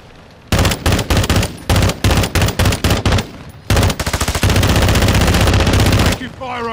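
Call of Duty gunfire rattles in loud, close automatic bursts, first as short repeated volleys and then as one long continuous stream of rapid fire.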